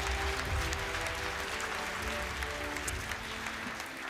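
An audience at a celebrity high-diving competition claps steadily for a diver who has just surfaced, fairly faint, with music underneath.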